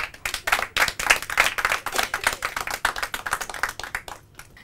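Audience at a quiz show claps for a correct answer, a steady run of quick clapping from a modest group that keeps an even pulse before thinning out at the end.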